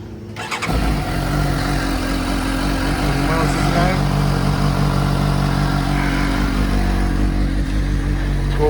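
A Suzuki GSX-S750 motorcycle fitted with a small muffler runs steadily at idle after a quick start, a constant close engine drone with a faint voice underneath.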